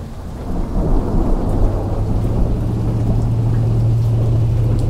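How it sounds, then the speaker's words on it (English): A big rolling thunder rumble builds over steady heavy rain during a rainstorm, loud and sustained for several seconds with no voices. "Here's a big thunder."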